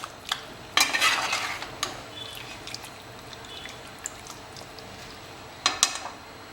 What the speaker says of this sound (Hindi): प्याज में हमने ये जो मैरिनेटेड मीट था हमारा,